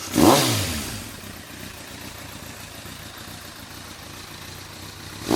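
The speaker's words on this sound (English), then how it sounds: "let's crank her up for you." A 2004 Kawasaki ZRX1200R motorcycle engine cranks and fires with a loud burst, then settles into a steady, rumbling idle close by before a short rev near the end.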